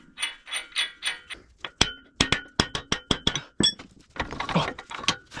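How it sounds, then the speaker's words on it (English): Hammer blows land on the axle nut of a 2017 Ford Escape CV axle, a string of sharp metallic clinks and smacks in an uneven rhythm, loud and close, with some ringing metal and scraping between strikes. "We're gonna leave a couple threads on because we're gonna give her a couple smacks."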